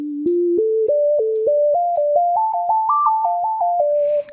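A Casio CT-X3000 keyboard plays a pure sine wave lead with portamento, each note sliding smoothly into the next as a short phrase climbs upward and then falls back slightly. The sound is clear and alone, with no talk.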